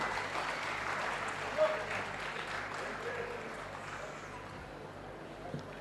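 An audience applauds at the inauguration of a 100-bed hospital, with steady clapping that fades slowly from moderately loud to quieter, and a few louder claps stand out.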